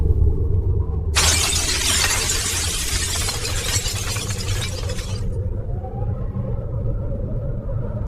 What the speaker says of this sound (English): like a window breaking